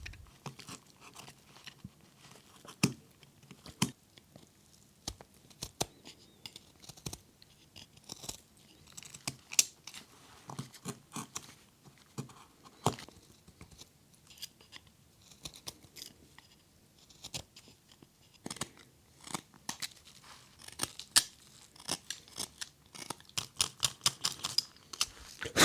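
A sharp chisel cuts a rounded edge into scrap wood while making a pot lid, giving sporadic crisp scraping and crunching bites in irregular bursts against a quiet background.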